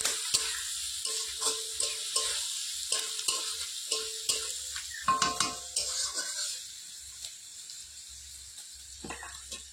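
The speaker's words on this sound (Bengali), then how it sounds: "এবার আমি এতে দিয়ে দিচ্ছি রসুন বাটা। রসুনটা একটু ভালো করে নেড়ে নিচ্ছি।" A spoon stirs garlic paste into reddish fried onions in a pan over a wood fire for a homemade chicken curry, with a steady sizzle under repeated scraping and clinking strokes against the pan.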